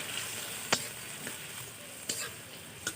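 Helencha greens frying in a pan with panch phoron spices, ginger-cumin paste and green chilli, giving a steady low sizzle with a few sharp stirring scrapes spaced apart.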